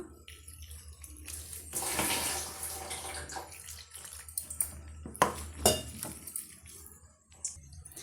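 Water sloshing and a spoon scraping and clinking against a bowl as gram flour and egg bonda batter is mixed, with intermittent knocks and stirring bursts, close up and fairly quiet.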